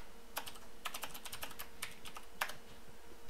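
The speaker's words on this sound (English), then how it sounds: "Let's type away." Someone types on a computer keyboard, a quiet run of irregular clicks and taps with brief pauses, close and faint against a low steady background hum.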